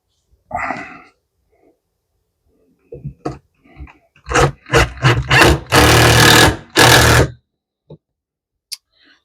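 A screw is driven into wood for pop-up trailer steps, a drill or driver buzzing in several short close bursts and then one longer run, with scattered clicks and handling sounds between.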